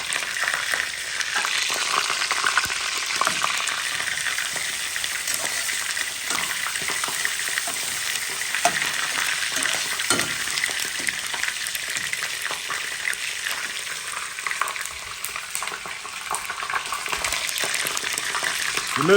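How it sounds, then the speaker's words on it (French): Mussels with tomatoes, chili and ginger frying and being stirred in a pan, a steady loud sizzle with occasional scraping and clatter of shells throughout, with no talking. "Je mets les moules. Je mélange."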